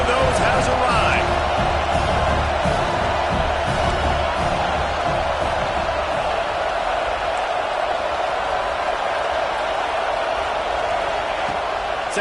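Dense, steady roar of a large football stadium crowd during a big moment of a game, loud and continuous throughout with a broadcast voice faintly woven into the din.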